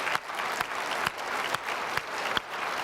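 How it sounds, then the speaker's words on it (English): An audience at a corporate tech conference claps for client speakers in dense, sustained applause, with sharper peaks recurring through it, heard as a broad wash of hands from a sizable crowd. "I think they deserve another round of applause"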